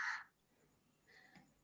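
A crow caws outside during a class, one loud, close, harsh call followed about a second later by a shorter, fainter second caw.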